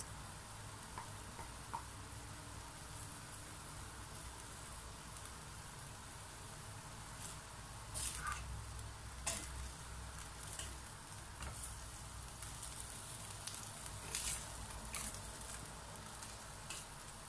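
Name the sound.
stirring igado ingredients with bay leaves in pan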